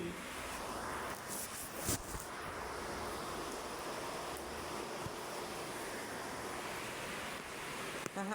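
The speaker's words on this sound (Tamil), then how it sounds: "அந்த அழுக்கு தண்ணியெல்லாம் வெளியே போயிட்டே இருக்கு பாருங்கள்" Dirty rainwater rushes out in a steady, fast flow, a constant broadband wash with a few faint knocks and clicks, fairly quiet and close with no voices over it.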